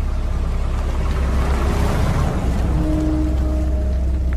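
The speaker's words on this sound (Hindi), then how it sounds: "जोरों से बारिश होने लगी थी" Steady, dense rain hisses throughout, a loud continuous wash with low rumbling underneath and a faint tonal hum near the end.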